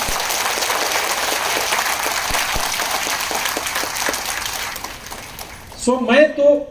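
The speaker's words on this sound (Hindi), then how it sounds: "अच्छे से ताली बजाइए, तभी आप लोग का भी आएगा।" A business event audience claps steadily for several seconds, a dense wash of applause that fades out before a voice starts speaking near the end.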